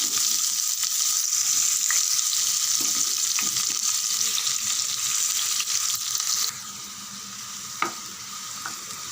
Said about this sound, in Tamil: வெங்காயத்தை அப்படியே சேர்த்துடலாம்